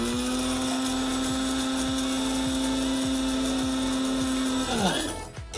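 Electric spice grinder whirring at a high steady pitch while dry spices rattle inside, close and fairly loud, then winding down as the motor is switched off near the end.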